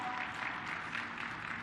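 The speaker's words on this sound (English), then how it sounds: "Can we hear the biggest round of applause?" Applause from a live forum audience fills the space as a steady, dense wash of clapping that stays even and moderately distant throughout.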